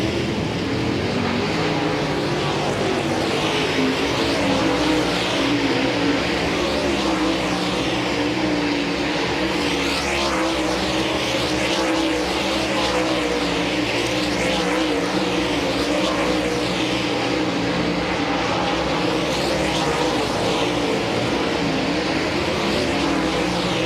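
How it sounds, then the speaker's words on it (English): DIRTcar Super Late Model race cars run hot laps at Volusia Speedway Park, a continuous loud engine roar from a pack of cars with rising and falling passes. "There's the cars on the racetrack for your 6th and final hot lap session for the"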